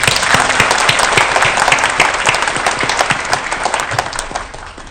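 A large audience claps steadily and loudly for children who won at every level of a competition, the dense applause lasting throughout with a slight fade near the end.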